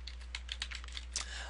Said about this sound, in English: I could type in there,